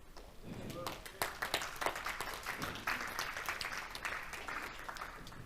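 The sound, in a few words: congregation clapping in church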